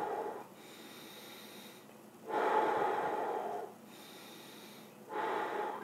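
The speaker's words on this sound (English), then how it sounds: "Deep breathing is a great technique for when you're upset or angry or a little bit pissed off." Slow, deep breathing for calming down: long, airy breaths rise and fall in a steady rhythm, close and fairly loud, with no talking.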